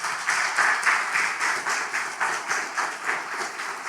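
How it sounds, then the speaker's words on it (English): A conference audience at a data innovation summit applauds the day's speakers, loud and steady, a dense wash of clapping with a slight rhythmic pulse running unbroken throughout. "can we give a huge applause to them?"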